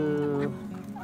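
A chicken gives a short, close cluck and a drawn-out squawking call, then a softer cluck, with no talking.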